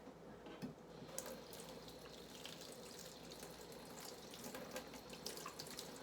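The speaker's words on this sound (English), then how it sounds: "we can rinse off the bottle as well" Tap water runs steadily into a kitchen sink while a bottle is rinsed, a continuous close splashing hiss with small sputters and no talking.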